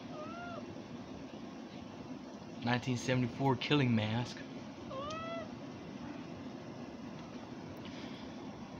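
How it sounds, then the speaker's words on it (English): A house cat meows nearby in several drawn-out calls, with brief remarks spoken just before and one louder cluster of mewing in the middle over a steady hum. "get away cat"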